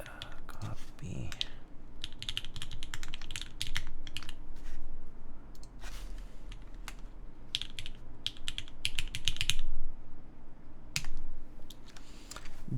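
Clicky mechanical computer keyboard typed on in quick irregular bursts with short pauses, fairly close, alongside a few low background noises and no clear talk.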